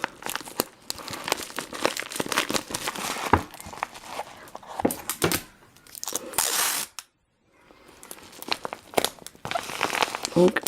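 Packing tape pulled and pressed onto a parcel of polymer clay creations: crinkly tearing and crunching bursts come in uneven spurts with a short quiet gap, close and fairly loud.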